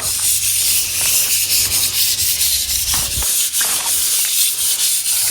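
Wooden railings being sanded by hand with sandpaper, a steady, close rasping scrape of repeated rubbing strokes that continues throughout with no talking.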